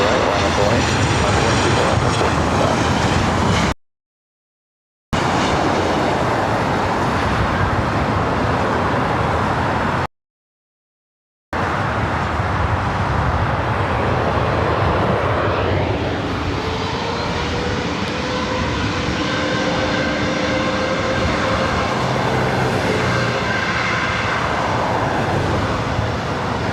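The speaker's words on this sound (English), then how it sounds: "have Southwest Airlines flight coming in from Chicago Midway, flight 1872, 737-700." A Southwest Airlines Boeing 737-700 arriving at LAX from Chicago Midway gives a sustained engine roar with a whining tone rising midway, two brief dropouts in the sound, and talking throughout.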